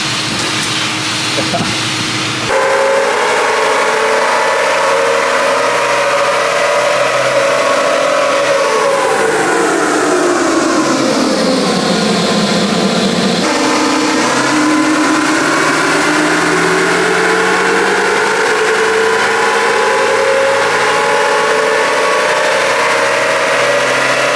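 A Nissan NP300 diesel engine, strapped down on a dyno, roars loud and close in a long sustained rev, rising, dipping briefly, then climbing again, with no talk over it.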